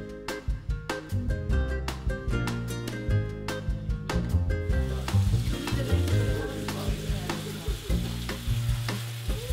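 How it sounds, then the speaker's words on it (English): Seasoned meat frying in a pan for an Abruzzo timballo gives a steady sizzle under a loud, dense layer of music that carries throughout. "Igea seasons the meat and then fries it."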